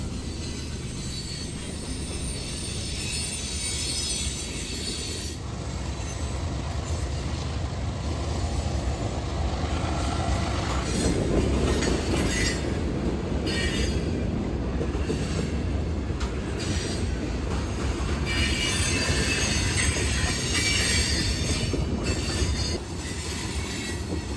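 A CSX freight train rolls past on the Fitzgerald Subdivision in Georgia, a long, loud, continuous rumble of railcars with squealing wheels and clickety-clack joints, the screech rising in the middle and later stretches.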